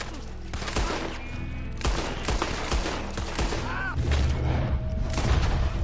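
Rapid overlapping gunshots and heavy booms from a nighttime firefight in Red Dead Redemption 2 ring out loud and steady, with rumbling low thumps building toward the end.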